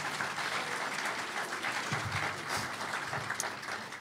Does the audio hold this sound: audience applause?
yes